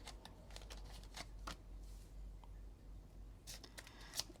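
Tarot cards shuffle and flick softly in a quick riffling patter, then are pulled from the deck, quiet and close in a still room.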